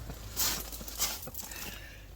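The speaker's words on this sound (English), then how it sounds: "Right, it's raining." Rain falls outdoors over a stone patio as a steady broadband hiss, with a couple of brief louder splashy bursts and no talking.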